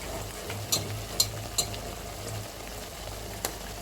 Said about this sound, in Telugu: ఫిష్ అయితే వేస్తున్నాను.